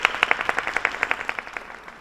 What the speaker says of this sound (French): Applaudissements très très forts pour nos amis d'Ahmed Mangué.